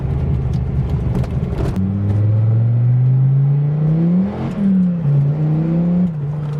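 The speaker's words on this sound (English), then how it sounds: "Second gear and it spins the wheel so easily." A Dodge Viper accelerates hard in second gear with its wheels spinning, the engine note rising loud and close in a long pull, dipping briefly before climbing again, with no talking.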